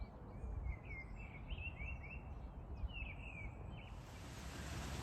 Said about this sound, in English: with a missel thrush